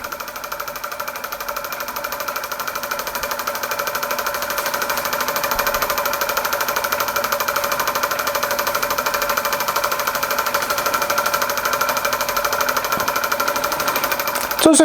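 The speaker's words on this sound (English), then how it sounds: "Just a nice little oscillating engine." A small scratch-built Mamod-style model oscillating steam engine runs steadily nearby, a continuous rapid mechanical chatter and hiss that holds even throughout, with a brief louder knock near the end.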